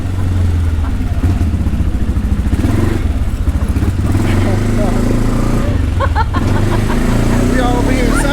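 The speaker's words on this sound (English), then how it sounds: "We're doing an ATV ride." A loud ATV engine drones steadily during an off-road ride near San Miguel de Allende, Guanajuato, Mexico, with rising and falling revs and rattling clatter, and people talk over it throughout.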